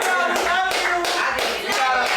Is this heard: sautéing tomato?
no